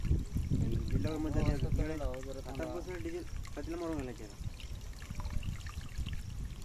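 Water poured into a pipe during a snake rescue gives a steady trickling, splashing wash beneath people talking nearby.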